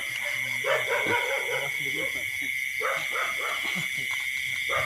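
A dog barks several times outdoors in a Thai village as rain approaches, with voices talking and a steady high-pitched insect drone in the background.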